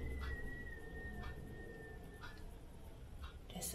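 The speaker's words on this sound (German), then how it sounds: "Das ist so windig, dass es pfeift." A thin, steady whistle of wind hums for a couple of seconds over a low, constant rush, with faint scattered knocks.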